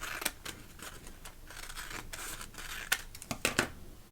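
Scissors snipping through wrapping paper to shrink a gift bag, a close run of crisp, rapid cuts with papery rustling and a few sharper clips toward the end, no talking.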